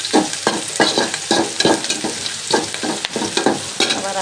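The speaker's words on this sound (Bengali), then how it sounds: "পেঁয়াজ বসাই দিচ্ছি, পেঁয়াজটা নাড়াচাড়া করতেছি।" Onions frying in a pan while being stirred, with rhythmic scraping strokes about twice a second over a constant close sizzle, and no talking.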